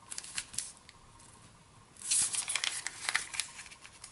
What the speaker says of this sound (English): we're going to take this edge and fold it to the center